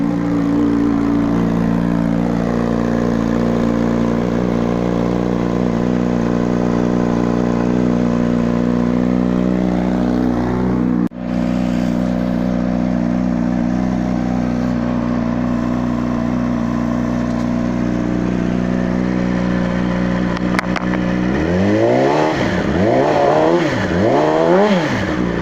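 A 2014 Yamaha YZF-R6 sport bike idles loud and close with a steady buzzing engine note, then near the end gets a few sharp throttle blips that rise and fall quickly.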